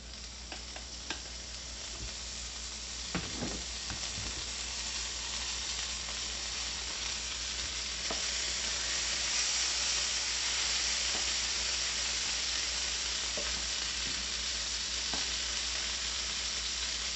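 French toast fries in butter in a pan, giving a steady, close sizzle that runs the whole time, with a few soft scrapes and clicks of a utensil and no talking.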